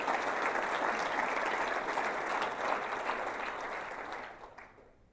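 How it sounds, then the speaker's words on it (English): Audience applause at a city State of the City address, dense sustained clapping from a large crowd that gradually fades out at the end. "let's give them a round of applause, because they are in the thick of it,"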